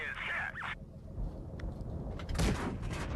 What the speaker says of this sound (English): I put a nice shot into the T95's flank